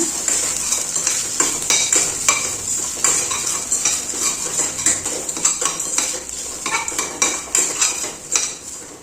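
Grated coconut being mixed with chickpeas in a pan over a low flame, a metal spoon scraping and tapping the pan in quick repeated strokes over a bright, constant sizzle, close and fairly loud.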